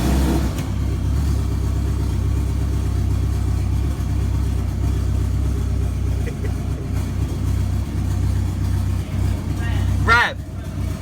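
A fully forged 500+ bhp Renault Megane engine catches and settles into a loud, deep, lumpy idle up close, then gives one sharp rising rev near the end.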